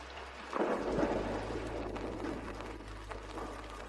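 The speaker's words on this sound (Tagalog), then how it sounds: "bumubuhos na ang ulan dito" Heavy pouring rain with rolling thunder, a loud rumbling swell arriving about half a second in and then a steady dense downpour hiss continuing close by with low rumble underneath.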